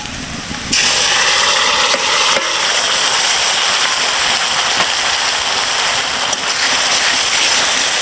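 Garlic and dried chili paste hits onions already fried deep red in a pan, cooking for a Bengali vetki fish curry with tomatoes; after a brief quieter start, a loud, steady, hissing sizzle runs on without pause, with no voices.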